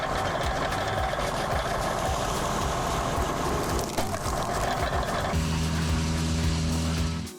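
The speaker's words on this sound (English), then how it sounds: "That John Deere tractor is powered by a diesel engine with a maximum output of 130" A John Deere tractor's diesel engine runs in a steady, loud mechanical drone, turning into a deeper, even hum over the last couple of seconds before fading out.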